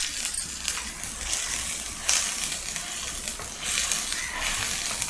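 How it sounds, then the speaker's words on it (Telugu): Masala paste is stirred into country chicken curry as it fries in a pan, village style. A steady bright sizzle runs throughout, with recurring scrapes and clinks of the stirring spoon. "మసాలా వేసిన తర్వాత శుభ్రం కలుపుకొని"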